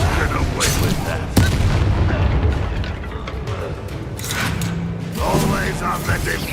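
Confringo blasting spell explosions from the Hogwarts Legacy video game, a dense run of loud booming bursts and sharp cracks layered over game effects, with a voice speaking throughout.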